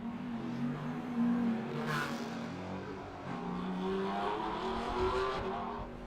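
Race cars lap a circuit during a session at the Bangsaen Grand Prix, engines rising and falling as they pass at a distance, with revving and shifting in an overlapping, continuous wash of motor noise.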